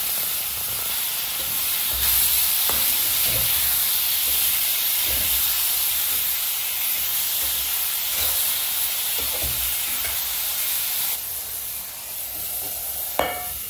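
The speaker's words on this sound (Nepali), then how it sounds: "अब चाहिँ टमाटरलाई राखेर मजाले चलाउनु पर्छ।" Tomatoes frying in a pan for momo achar while being stirred, a steady close loud sizzle and hiss with occasional soft scrapes and taps from stirring.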